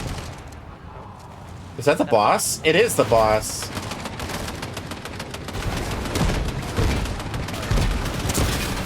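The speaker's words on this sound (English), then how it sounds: "I'm hearing gunshots." Bursts of gunfire ring out in a Fortnite match, dense overlapping shots and booms that swell and fall across the scene while a voice talks over the action.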